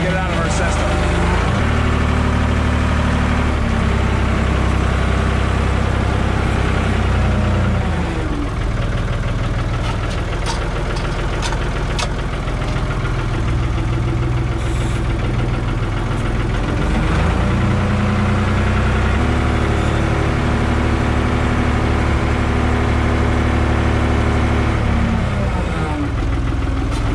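Old backhoe diesel engine running, a loud continuous rumble that revs up and down in surges, with people talking over it.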